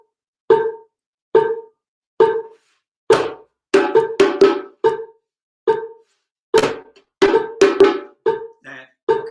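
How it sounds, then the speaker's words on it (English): A cowbell struck by a foot pedal at a virtual rhythm circle keeps a steady pulse: sharp, bright clanks that start evenly spaced, then come quicker and more syncopated, loud and close with no voices. "It's called a cowbell."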